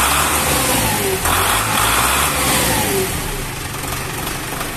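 A weak-starting tractor engine at a farm machinery dealer in Vietnam turns over and catches, then settles into a loud, steady diesel rumble with a rev partway through, close and continuous, with no talking.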